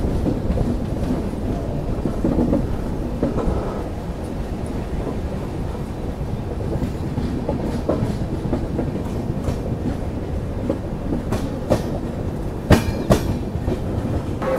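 An Intercity train from Phulera to Udaipur runs steadily on the rails near Bhilwara, with a loud, continuous rumble, occasional clickety-clack beats and some wind buffeting on the microphone, and no talking.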